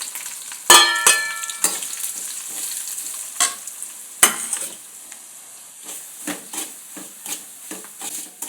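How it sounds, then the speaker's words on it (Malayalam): Chili powder and turmeric fry in a pan with garlic, curry leaves and kanthari chilies, crackling in sharp bursts while a utensil stirs and scrapes in irregular clicks, close and fairly loud. "ഇനി നമുക്ക് മുളക് പൊടി മഞ്ഞപ്പൊടി ഇതെല്ലാം കൂടി ഇട്ട് നമുക്ക് മൂപ്പിക്കാം"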